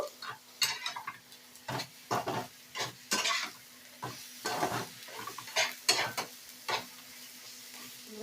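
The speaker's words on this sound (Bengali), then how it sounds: "ভালো করে মশলাটাকে আমি কষিয়ে নেব।" A spoon stirs masala frying in a pan for chicken kosa made without ginger or garlic, giving soft sizzling under a series of irregular scraping and clinking strokes, close and fairly quiet, with no voices.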